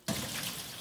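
A small hose running water into a rabbit cage, a steady rushing flow that starts abruptly and continues close by, with no talking.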